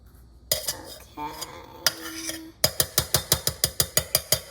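A metal spoon clanks against a bowl while eggless chocolate chip cookie dough is mixed by hand. Scattered scrapes come first, then a fast, even run of close, ringing taps.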